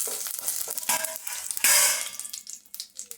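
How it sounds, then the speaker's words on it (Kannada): Green chillies and onion frying in hot oil with mustard seeds, a close steady sizzle broken by scraping stirring strokes and a louder burst of spitting partway through, no voices. "ಮೆಣಸಿನ್ಕಾಯಿ ಈರುಳ್ಳಿ ಚೆನ್ನಾಗಿ ಫ್ರೈ ಆಗಬೇಕು."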